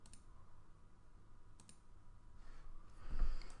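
Mouse clicks during a Magic: The Gathering Pauper card game played on a computer, a few sparse, crisp clicks over faint background hum, close and quiet, without speech.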